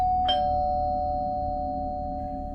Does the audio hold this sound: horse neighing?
no